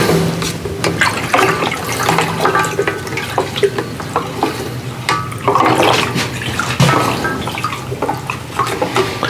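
Peach pie moonshine mixture being stirred after 100 proof shine is poured in, a steady sloshing, swirling liquid sound up close with continuous watery movement throughout.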